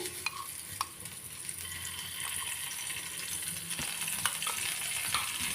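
Onion fries in oil in a pan for a kurma gravy with double beans, producing a moderate, steady sizzle with light stirring clicks and a few faint pops.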